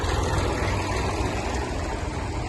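A vintage Massey Ferguson 35 tractor engine idles steadily close by, a low, even chugging rumble that holds constant loudness throughout, with no voices.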